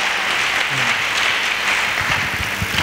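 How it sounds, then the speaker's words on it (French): A church congregation applauds and cheers for the Lord at a prayer gathering, loud sustained clapping filling the whole moment with a few low voices mixed in. "Est-ce qu'on peut acclamer encore le Seigneur?"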